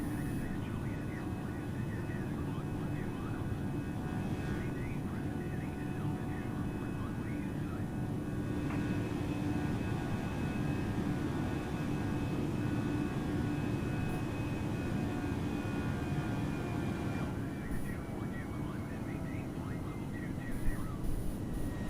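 Airbus A320 jet engines in Microsoft Flight Simulator climbing after takeoff from Minneapolis, a steady moderate cockpit hum and whine holding for about twenty seconds, with no speech.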